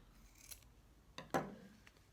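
Scissors cut through wool yarn in a few sharp, close snips with quiet pauses between them.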